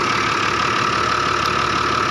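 A large six-cylinder, 120-horsepower diesel tractor engine with an air-conditioned cab idles with a steady, even drone and faint knocking throughout, close and unbroken.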